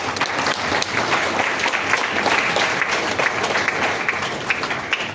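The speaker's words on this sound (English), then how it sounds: "So I take the opportunity to ask all of us to clap for Liberia." Audience applauding for Liberia at a live-streamed gathering: dense, steady clapping from many hands that holds at an even level from start to finish, with no talk over it.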